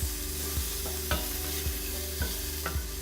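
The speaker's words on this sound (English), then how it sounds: "So while we have our guanciale cooking" Guanciale renders in a pan for pasta alla gricia, giving a steady close sizzle broken by a few sharp scrapes and taps of a stirring utensil at a loose, irregular rhythm.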